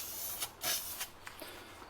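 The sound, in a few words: spray painting a 1930s Coleman 2E camp stove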